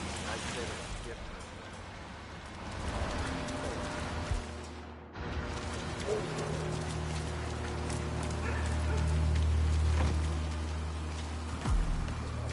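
Rain falls in the Hitman video game as a continuous patter under game sounds, with steps and a brief dip midway. Characters speak over it.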